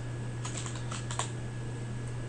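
A short flurry of keystrokes on a computer keyboard, a few quick light taps clustered together over a steady electrical hum.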